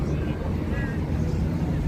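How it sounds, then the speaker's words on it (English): Wind blows on an outdoor Las Vegas street, a steady broadband rush buffeting the microphone, with faint voices and street noise underneath. "it's getting a little windy"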